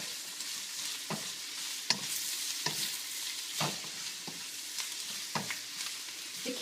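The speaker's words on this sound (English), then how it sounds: "Continue to stir." Red cabbage sautéing in a pan and being stirred, with a steady close sizzle broken by about eight sharp scrapes and clacks of the utensil against the pan at irregular intervals, with no voices.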